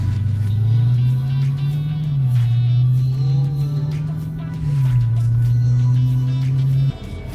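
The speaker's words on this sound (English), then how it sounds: "It involves me actually test driving a Challenger SRT Hellcat." Dodge Challenger SRT Hellcat engine during a test drive, a loud steady low rumble that rises and falls in pitch as the revs climb and ease, close and continuous, with no talk.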